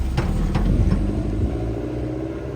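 A Toyota MR2 GT-S turbo with a Tomei racing limited-slip differential rumbles nearby, its low engine drone broken by a few quick mechanical clacks early on, then a steady idle-like hum.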